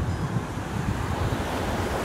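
Sea waves wash continuously against a shore under steady wind buffeting the microphone, a loud, dense rushing roar with no clear breaks and no voices.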